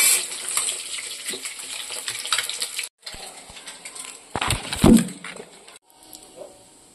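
Eggs seasoned with salt and turmeric frying in a pan: a moderate, continuous sizzle with a few brief breaks and clatters partway through, close by and without speech.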